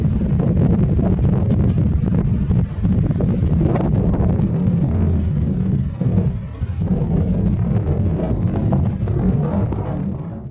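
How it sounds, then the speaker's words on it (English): Heavy wind buffets the microphone in loud, rumbling gusts, a continuous blustery roar that dips briefly before surging again. "Here's a quick glimpse of how windy it is"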